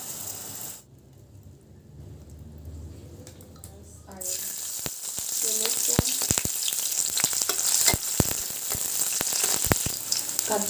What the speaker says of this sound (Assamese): সৰু আলু গুটি ভাজি লম